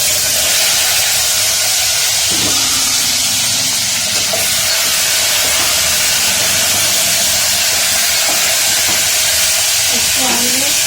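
Whole tindora (kundru) dropped into a hot pan, giving a steady broadband sizzle and hiss that runs loud and continuous throughout, with faint clinks and stirring underneath.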